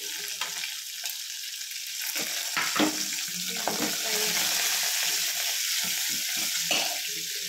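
Dried red chillies, chana dal, coriander and spring onion leaves crackle in hot oil with garlic and turmeric for tomato chutney, a dense, steady sizzle broken by occasional stirring knocks, close and fairly loud.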